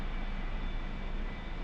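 A-4E Skyhawk jet engine in the DCS flight simulator, with a steady, loud broadband roar and a faint high whine holding constant throughout, no voices over it.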